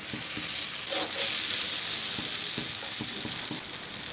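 Pointed gourd frying with spices in a pan, a loud, dense, steady hiss of sizzling oil with faint stirring knocks underneath, close up throughout.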